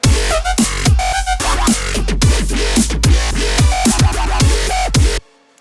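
An electronic remix drop plays without its horn loop, loud and steady, with thumping kick drums on a regular beat under bright synth layers, cutting off abruptly to near silence at the end.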